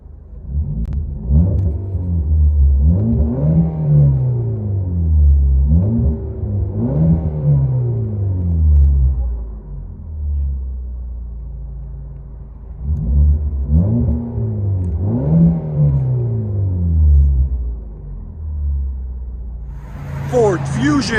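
Heard from inside the cabin, a 2014 Ford Fusion SE with the 2.5L engine and a muffler-delete exhaust gives a deep droning rumble that rises and falls through several loud revs. Talk comes in briefly at the end.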